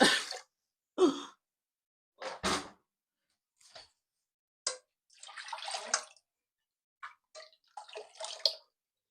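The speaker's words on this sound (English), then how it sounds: "See, I added a little bit of water" Water splashes and pours in short bursts, with gaps of silence between them.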